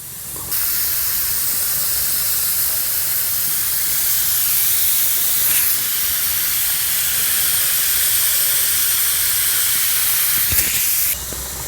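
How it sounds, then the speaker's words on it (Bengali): Steady, loud hiss of steam from biryani boiling inside a bamboo tube over an open fire, continuous and close for the whole clip with no talking. "ওই আওয়াজটা আমরা ওর ভিতরে মোটামুটি ফুটছে ওর জিনিসটা, যার জন্য এই আওয়াজটা হচ্ছে।"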